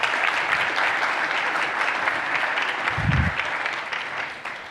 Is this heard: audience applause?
yes